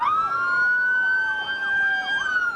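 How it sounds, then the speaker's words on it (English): Several police sirens wail at once during high-speed police training, their overlapping rising and falling tones sounding loud and close. "it's police practice, complete with high speeds and lots of sirens"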